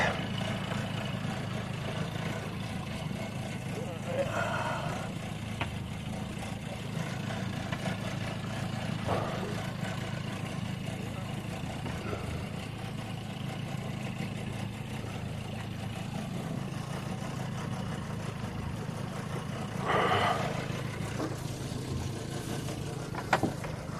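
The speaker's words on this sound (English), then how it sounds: "there's another noise in the engine that I don't like." A boat engine at Kemah Marina, running with an unwanted extra noise, gives a steady, close low rumble for the whole stretch, with a few faint knocks and a brief louder swell near the end.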